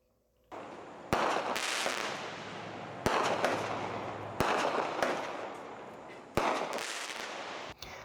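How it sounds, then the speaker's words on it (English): A 200-gram firework cake goes off in a series of sharp, loud bursts spaced a second or two apart, each followed by a crackling, rumbling tail, with no voices. "circle boxes of 200-gram cakes tend to be the fireworks that are the most common to tip over"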